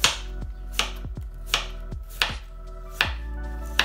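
A knife chops a radish into round slices on a cutting board, giving about eight sharp, evenly spaced thuds that sound close and crisp, with no talking.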